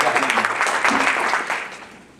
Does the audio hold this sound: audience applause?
yes